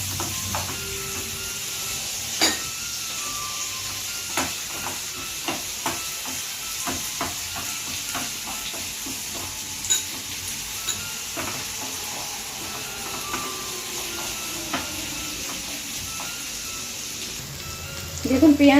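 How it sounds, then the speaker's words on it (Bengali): Sliced onions frying in a pan, a continuous hissing sizzle with occasional spatula taps and scrapes over nearly twenty seconds, a louder clatter at the very end. "এই স্টেজে আমরা দিয়ে ভালো করে পেঁয়াজটাকে একটু ফ্রাই করে নেব"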